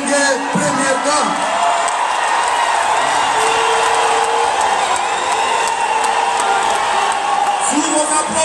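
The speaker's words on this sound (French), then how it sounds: "Sous vos applaudissements," A crowd of the Congolese diaspora at the Élysée in Paris applauds and cheers continuously with whoops as the presidents Macron and Tshisekedi arrive, a dense, loud roar that fills the room throughout.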